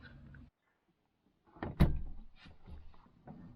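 Sliding side door of a 2021 RAM ProMaster 3500 van hauled open by its handle: a sharp latch clunk followed by a rumbling slide and softer rattles, close and alone after a brief quiet.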